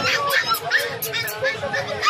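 Golden Labrador at an outdoor pet market in Pasig gives a few short, high yips and whimpering barks among other dogs, with people chattering close by throughout.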